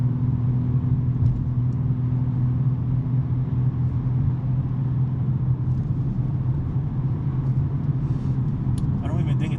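BMW M3 with a six-speed manual and a non-resonated mid-pipe, driven on a Sunday morning: a steady, deep exhaust drone and road rumble heard from inside the cabin, continuous under someone talking.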